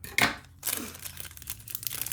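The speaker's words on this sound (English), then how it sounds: "Let's get some scissors here. Choppity chop." Scissors cut open packaging for nail brushes up close: a sharp snip and tear, then a stretch of crinkling, rustling plastic.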